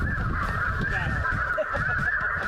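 Geese honk loudly and continuously during a goose hunt, a dense chorus of overlapping calls from a flock coming in, with faint low background rumble and no clear talk.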